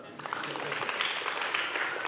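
An audience at a talk on youth activism bursts into clapping after a brief quiet start, building to a steady, fairly dense round of applause that holds to the end.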